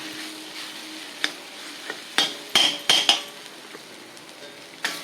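Mango ginger sautéing in a pan, a faint background sizzle broken by a handful of sharp metallic clinks and scrapes from a stirring utensil against the pan, clustered in the middle, with no voices.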